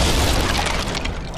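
A mortar is blown up in Fable III, setting off a loud close explosion with a deep rumbling boom that fades slowly as debris settles.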